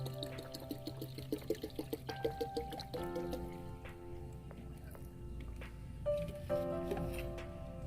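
Vinegar poured from a bottle onto a banana stump, a soft liquid splashing and trickling with bubbly gurgles and a few tonal glugs, quiet and close with no talking.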